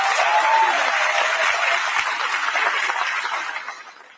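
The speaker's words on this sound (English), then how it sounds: "Can we have a big round of applause" An audience at a youth summit on human fraternity and compassion breaks into sustained applause for the panel guests, a broad, even roar of clapping that fades toward the end.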